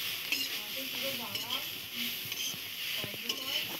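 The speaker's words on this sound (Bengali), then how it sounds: "নারকেল কুড়োটা নাড়তে থাকবো" Grated coconut for a rasapuli pitha filling is stirred in a pan with repeated scraping strokes over a soft, steady sizzle, close up, with a faint voice in the background.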